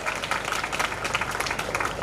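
Audience applause at a convocation ceremony of a Unani medical college: steady, dense clapping from a crowd, even and sustained throughout at moderate loudness.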